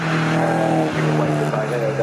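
Saloon and Z car racing at Cadwell Park, with cars roaring past and a tyre squeal amid dense engine noise, loud and continuous under a commentator's talk.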